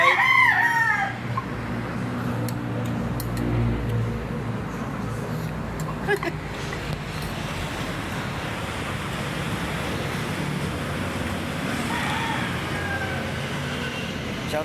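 A rooster crows near the start over a constant roar like surf or wind, and people speak intermittently through the noisy outdoor scene at a birthday gathering.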